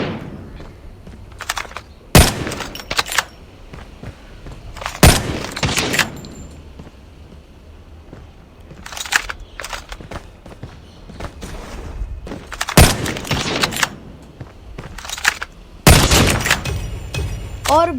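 Video game gunfire from Call of Duty in a one-on-one match: several sharp, loud shots spaced irregularly, a few seconds apart, over a low background of ambient game noise.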